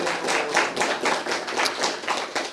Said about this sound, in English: Let's do a round of applause for that